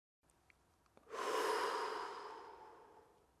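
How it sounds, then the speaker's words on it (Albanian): One long, slow exhalation after inhaling from a Diskus medicine inhaler, a soft breathy whoosh that swells quickly and then fades gradually, heard up close with no talking. "Shkarkoni ngadalë jashtë inhalatorit dhe rifilloni frymëmarrjen tuaj normale."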